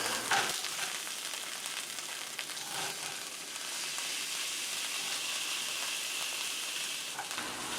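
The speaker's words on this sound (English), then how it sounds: "I'm going to sear the meat as best I can, just to give it a little extra flavor." Chunks of beef for barley soup sear in a hot pot, giving a steady hissing sizzle, fairly faint and continuous, with a few brief clatters near the start.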